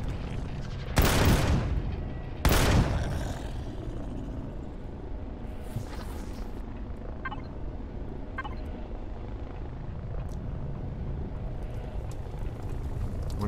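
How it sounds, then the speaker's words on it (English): Two loud, sharp sniper rifle shots about a second and a half apart in Empyrion Galactic Survival, each with a booming tail, followed by a lower steady hum and a few faint distant pops. "Let's take out that turret so I know I'm not getting ambushed by him. All right, so sniper rifle."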